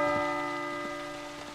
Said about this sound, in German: Lass mal noch das kurze Glockenspielchen hier spielen